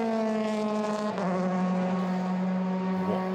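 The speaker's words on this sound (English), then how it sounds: "Here comes Callum Williams then, accelerating through Woodcote." A Euroformula Open race car accelerates through Woodcote at Silverstone during qualifying, its engine a loud continuous high-pitched whine that shifts pitch briefly partway through and then carries on steadily.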